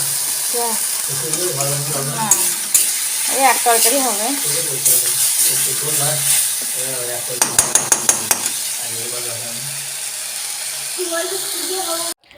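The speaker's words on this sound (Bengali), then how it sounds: "কড়াইয়ে তেল দিয়ে ভালোভাবে মশলাটা কষিয়ে নিচ্ছি" Spice paste fries in oil in a kadai with a continuous hiss and scraping stirs, while a voice talks over it for most of the time and a burst of quick metallic taps sounds midway.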